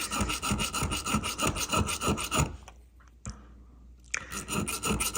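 Small round hand file rasping against a Leatherman Surge multitool, quick rhythmic scraping strokes that pause for about a second and a half before resuming, close and clear.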